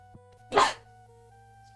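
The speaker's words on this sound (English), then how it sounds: "I gotta sneeze" A single sharp human sneeze bursts out over a quiet room with a low steady hum, brief and fairly close, then silence.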